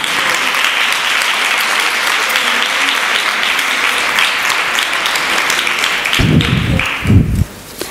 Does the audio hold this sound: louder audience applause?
yes